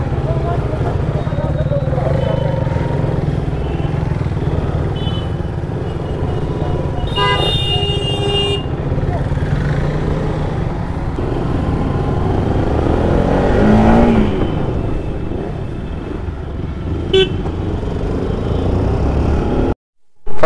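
Motorcycles setting off on a trip toward Manali, with engine rumble throughout, a burst of horn toots partway through and another short honk later, while people talk nearby.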